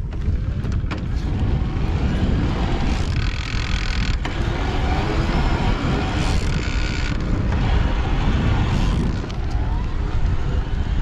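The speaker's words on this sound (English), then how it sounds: "I like to test bikes in the highest level of assist, just so you can hear the motor at its loudest." A ZEN Samurai electric bike motor runs at its highest assist level while riding across a paved parking lot, a continuous whir mixed with wind rumble and occasional creaks and clicks from the bike.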